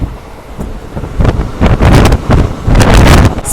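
Strong wind from a fast train running toward Maddur buffets the microphone in gusty, roaring surges that rise and fall for a few seconds, loud and close, with no talking.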